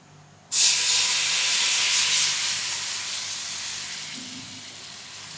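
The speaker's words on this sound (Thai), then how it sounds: "ทั้งหม้อค่ะใส่กะทิลงไปเลยค่ะ" Coconut milk hits a hot pot and erupts into a loud, bright sizzle that starts abruptly, then holds as a steady hiss and slowly fades, with no talking.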